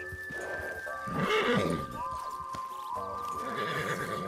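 A horse in Red Dead Redemption 2 whinnies loudly in a shaky rising-and-falling neigh, with snorts and clip-clopping hooves around it, close and clear.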